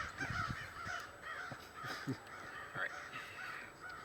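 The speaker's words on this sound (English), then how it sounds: "they're running that hawk out. we got all kinds of wildlife going on here, so that's what you hear in the background" Crows caw repeatedly at a distance outdoors in a cemetery as they chase off a hawk, the harsh calls overlapping under light background noise.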